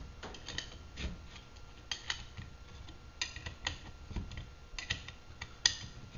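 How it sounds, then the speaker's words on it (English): Nuts being tightened with two 9/16 wrenches while assembling a Theta Series magnetic sweeper: quiet, close metallic ticks and clicks in an irregular rhythm, alone. "tighten up those nuts using 2 9/16 wrenches"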